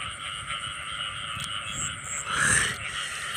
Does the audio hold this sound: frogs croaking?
yes